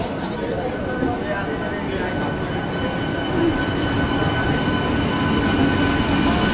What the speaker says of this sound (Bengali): এই দেখুন আজকের এই 11টা 5-এ সাঁতরাগাছি থেকে দীঘাগামী এই ট্রেন এখন ঢুকছে এবং ট্রেন ভর্তি যাত্রী একদম।